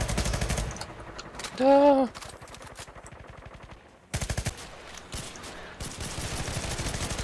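Rapid automatic gunfire from the video game Renegade X crackles in bursts through the clip, with someone talking over parts of it and brief game sound effects between volleys.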